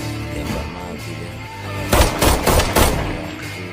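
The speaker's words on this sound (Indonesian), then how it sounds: "Tembak mati deh." Gunfire in a film comes as a rapid cluster of loud, close shots in the second half, over a bed of background music.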